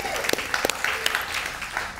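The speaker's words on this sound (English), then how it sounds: "how about a round of applause for the entrepreneurs?" An audience at a business summit claps for entrepreneurs, a brief round of applause with a few distinct sharp claps standing out near the start, moderately loud and fading toward the end.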